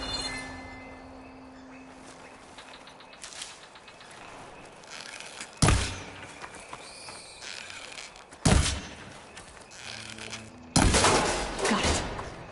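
Three sharp impacts ring out in Horizon Forbidden West as a lock is shot off, loud sudden hits a few seconds apart over a quiet ambient game background.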